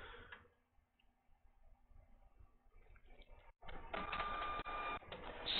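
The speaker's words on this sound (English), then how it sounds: "the printer waited until the customer left to start printing the darn server support" An office printer running unwanted pages: quiet mechanical ticking and whirring at first, then a sudden louder stretch of rapid feeding and printing clatter with a steady high whine, close by in a quiet room.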